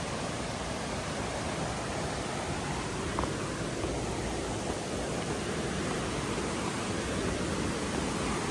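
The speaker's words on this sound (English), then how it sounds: "A little waterfall down here." A small waterfall beside a hiking trail in Rocky Fork State Park, Tennessee, gives a continuous, even broadband rush of falling water that stays close, loud and unchanging throughout.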